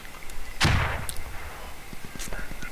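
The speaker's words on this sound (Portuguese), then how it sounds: "acho que eu dei um tiro nele" One loud gunshot booms and echoes out in the tactical shooter game Squad, followed by a few fainter, scattered shots and clicks.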